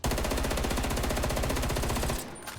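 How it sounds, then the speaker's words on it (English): Sustained rapid automatic fire from the FFAR rifle with attachments in Call of Duty: Black Ops Cold War, a loud continuous burst of evenly spaced shots that stops abruptly near the end. "if you were to shoot this gun, which is the FFR, with the attachments on it, this is what the recoil looks like"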